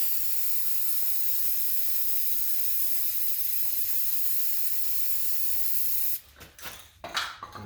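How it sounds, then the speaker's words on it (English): Black spray paint hisses steadily from a can onto water for hydro dipping a deer skull, a loud, close, continuous spray lasting about six seconds before breaking into a few short, uneven bursts. "we'll start with the black, and you're just supposed to spray in the middle for 5-10 seconds"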